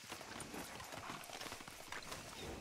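Horse hooves clop in a quick, steady rhythm in the video game Red Dead Redemption 2, faint and somewhat distant, like a horse trotting along.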